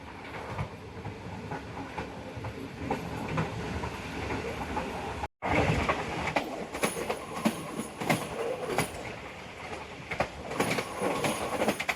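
Karakorum Express passenger train rolling along rails in Pakistan, a steady loud rumble with clattering wheel beats and occasional high squeals, a brief cut midway, heard close from on board.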